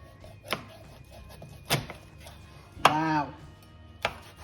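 A Nakano kitchen knife strikes down through a tilapia fish onto a cutting board in four separate sharp chops, evenly spaced, with a short squeaky scrape after the third cut.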